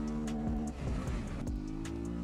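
XR3 motorcycle engine in a mobile motorcycle game, a steady droning idle that drops and revs in short bursts, then settles into a sustained tone, loud and close with no talking.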